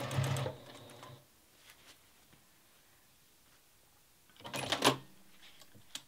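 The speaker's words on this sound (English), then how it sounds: "when you get to the end, backstitch a few times to secure your threads." A sewing machine backstitches during free motion quilting, giving two short rapid whirring stitch bursts at the start and end with quiet between, close and clear.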